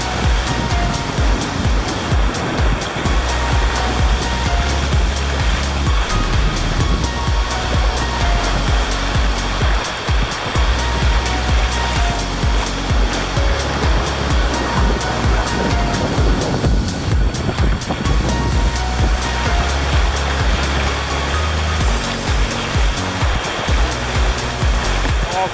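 Loud, continuous roar of ocean waves breaking on a beach at Taketomi Island, Okinawa, heavy surf churning without pause throughout.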